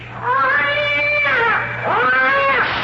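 A cat lets out two drawn-out, wailing meows close by, the second rising after a brief dip, with a low hum underneath.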